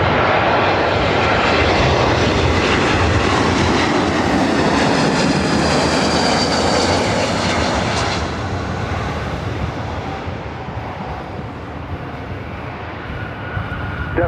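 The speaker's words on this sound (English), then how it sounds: "That was flight 287 coming up from Boston on the A321." JetBlue Airbus A321 jet at LAX, its engines a loud, sustained roar that stays steady for about eight seconds and then eases slightly as the aircraft moves off, with no voices.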